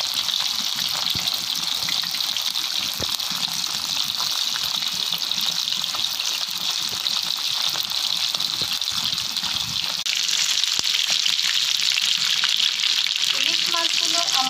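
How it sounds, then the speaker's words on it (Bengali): Hilsa fish frying in oil in a pan, a dense, steady close sizzle with crackling spits that swells a little louder toward the end. "ইলিশ মাছগুলো আমি ভেজে নিচ্ছি।"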